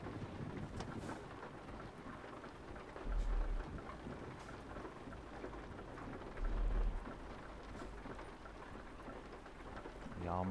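Rain falls in Euro Truck Simulator 2, a steady hiss of drops on the truck with two deep rumbling swells like distant thunder, faint and continuous throughout.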